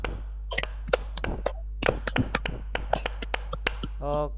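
A class of schoolchildren claps a counted pattern, with sharp hand claps arriving in irregular bursts and groups that vary in size, and a short voice at the very end.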